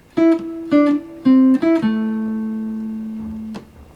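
A jazz guitar plays a short line in the upper octave of the A Dorian scale: four quick, clear notes, the last one held and ringing out as it slowly fades, heard alone.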